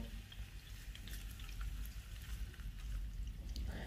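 Tofu pieces frying in oil in a pan, a steady close crackle and sizzle that holds throughout with small bursts of popping, no voices over it.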